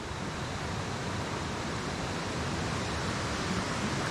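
A creek runs high after heavy rainfall at an evening tent campsite, giving a steady broadband rush of flowing water. It is close and even and holds on without a pause, with no voices over it.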